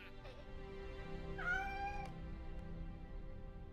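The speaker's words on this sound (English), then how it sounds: "I just heard a meow." A cat gives a single clear meow, rising then falling, fairly close, over a soft background of ambient game music.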